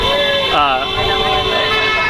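Car horns honk in steady, overlapping tones close by, layered over city traffic noise throughout, with someone talking alongside them.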